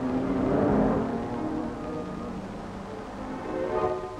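Jaguar rally car driving toward the start of a 1950s road rally in Holland, a steady engine drone that swells near the opening and again toward the end, heard over faint crowd murmur.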